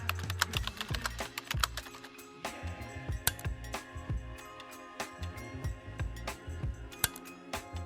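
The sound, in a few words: typing on a computer keyboard to search for an indicator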